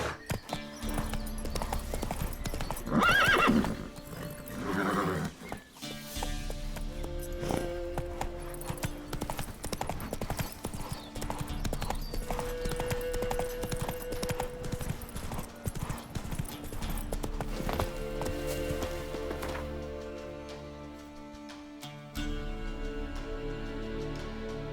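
The horse Roach galloping in The Witcher 3, rapid rhythmic hoofbeats clip-clopping over ground with a whinny early on, steady and close with game ambience underneath.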